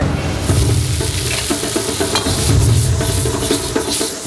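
Scallops stir-fried in a wok with garlic, shallots, chili and spring onion, sizzling loudly and steadily with repeated scraping and tossing of the spatula throughout, no voices.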